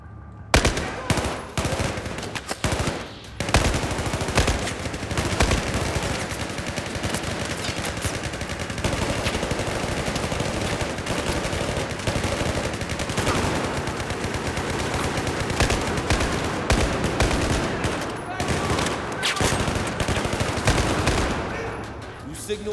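Sustained automatic gunfire from the video game Battlefield 4 rattles in dense, loud bursts for over twenty seconds, with brief gaps and layered shots.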